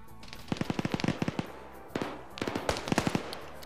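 FN Minimi light machine gun firing 5.56 rounds in a video game match, heard as two rapid bursts of sharp, evenly spaced shots separated by a short pause.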